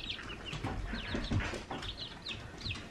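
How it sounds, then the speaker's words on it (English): Several chickens cluck and call in close, overlapping bursts over a busy farmyard background, with no talking. "These are her two favorite chickens."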